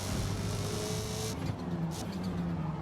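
A race car in Forza Motorsport, on a Nürburgring corner, roars at high revs, then the engine note cuts and drops as it brakes into the turn, loud and continuous with no talking.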